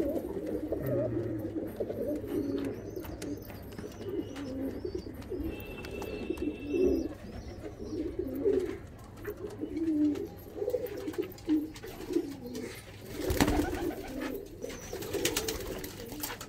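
High-flying Andhra pigeons coo in a loft, a soft, continuous murmur of many birds with occasional chirps, fairly quiet and close, and no talking over it.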